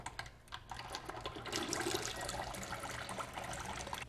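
Engine oil draining and dripping from the extended sump of a 1973 VW Super Beetle with the engine cold, a steady liquid trickle with irregular ticking drips, close by, over a low hum.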